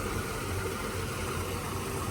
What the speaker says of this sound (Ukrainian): Отут знаходиться двигун